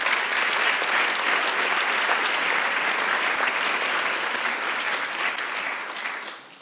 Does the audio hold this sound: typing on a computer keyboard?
no